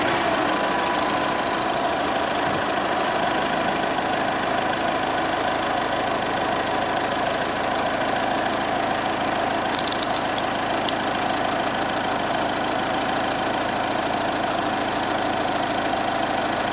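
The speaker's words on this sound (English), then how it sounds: "we have to start the vehicle" A Volkswagen-group car engine, from a Volkswagen, Skoda or Audi being checked for power steering faults, idles with a steady, even drone throughout, with a few faint clicks partway through and no talk.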